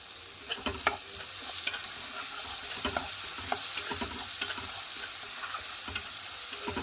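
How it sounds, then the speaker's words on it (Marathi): Roasted green chillies with turmeric sauté in a pan while a spatula stirs them in quick irregular scrapes and taps over a constant soft sizzle. No voices. "हळद घालून पुन्हा एकदा मी त्याला व्यवस्थित परतून घेते."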